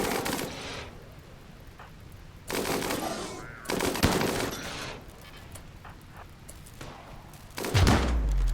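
Bursts of rapid automatic gunfire in the colony game RimWorld during a melee fight, several loud rattling volleys separated by short pauses, with thumps between them.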